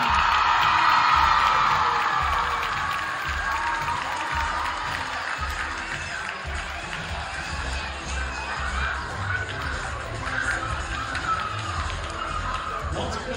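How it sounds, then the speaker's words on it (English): Crowd applause and cheering in a gym for the Lyon County Lady Lions underclassmen basketball players and coaching staff, a sustained wash of clapping and shouts at moderate distance, with voices mixed in. "a big round of applause for our Lyon County Lady Lions underclassmen basketball players and coaching staff"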